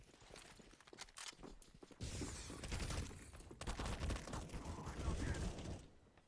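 Gunfire in a video game shootout: dense bursts of rapid shots and clattering effects build into a sustained barrage, heard faintly and low in level before cutting off near the end.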